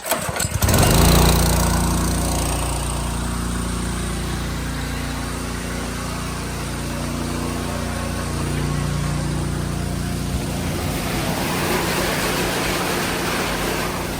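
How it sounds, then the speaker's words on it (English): A small water pump engine is pull-started and then runs steadily at a loud, even drone, with no talking over it. "Pump start, how well will it start?"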